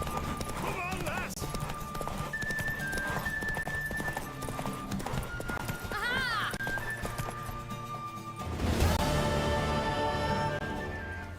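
Hooves clip-clop rapidly as a horse gallops in The Witcher 3: Wild Hunt, with game music and character voices talking over the rhythmic hoofbeats.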